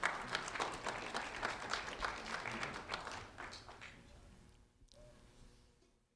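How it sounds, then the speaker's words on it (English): Applause at a recognition ceremony for a second grade student; a crowd claps steadily for a few seconds, then the clapping thins and fades out into quiet room tone. "a round of applause for Mario Pablo Rafael,"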